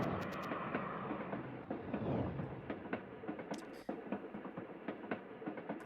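Train riding along in the video game Little Witch in the Woods, a steady rumbling ride with repeated clacks and knocks at a moderate level.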